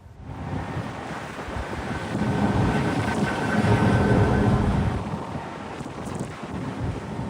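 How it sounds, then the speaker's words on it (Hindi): Stormy sea around a ship: heavy wind buffeting and rolling waves surge loudly and continuously, swelling in the middle and easing toward the end, with no voices. "लहरें भी उमड़कर जहाज पर चढ़ जाना चाहती।"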